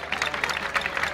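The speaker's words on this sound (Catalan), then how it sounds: "Un fort aplaudiment a Moixaranga de Pego." An outdoor festival crowd applauds a traditional Valencian human tower group, with a brief, moderately loud patter of many hands clapping.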